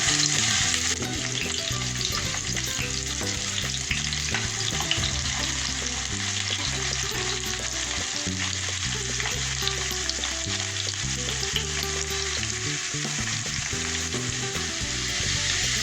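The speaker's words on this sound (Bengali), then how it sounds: "পেঁয়াজটাকে আমি ভালো করে ভেজে নেব" Chopped onion fries steadily in hot oil with bay leaf and whole spices for crab curry, a loud, dense, continuous sizzle with occasional stirring clatter, no voices.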